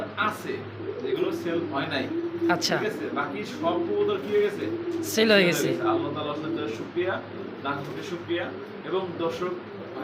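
Two or three pairs of pigeons, domestic and foreign breeds kept for sale, coo softly and repeatedly beneath continuous talking by a man.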